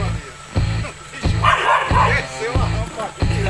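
A dog chasing a tegu lizard barks repeatedly in short, sharp bursts close by, with yips between, and a voice briefly heard.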